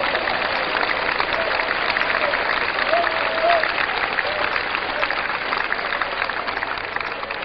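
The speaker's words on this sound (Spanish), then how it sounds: "Dele palmas a Cristo un momentito." Church congregation clapping hands in praise during a sermon, a continuous dense wash of applause filling the room at steady loudness, with faint voices beneath.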